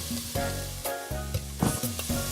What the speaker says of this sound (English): we're gonna let this saute and get translucent before we add the next ingredient